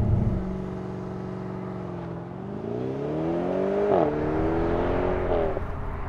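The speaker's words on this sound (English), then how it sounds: "So, moshing the gas, moshing the throttle." A 2018 BMW M550i xDrive accelerates hard at full throttle, its engine note climbing steadily and dropping briefly at each upshift, heard loud and continuous from inside the car.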